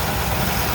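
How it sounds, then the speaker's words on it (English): A 1951 Chrysler Windsor's Spitfire flathead six, about 250 cubic inches, idles with a steady, even rumble that holds level throughout, close by, with no voices over it. "This is the Spitfire engine."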